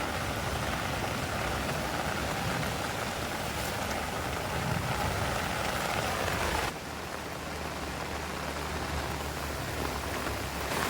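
Heavy rain pours steadily on surfaces outdoors during a rainy-day fishing trip, a dense, loud, continuous hiss that eases slightly partway through.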